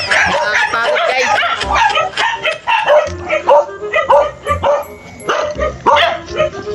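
A dog barks repeatedly at a home, loud, close yips and barks mixed with whimpers, while people talk over it.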